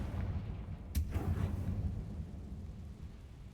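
A Confringo fire spell explodes in Hogwarts Legacy, a single sharp blast followed by a low rumbling tail that fades over a few seconds, with a soft background bed before it.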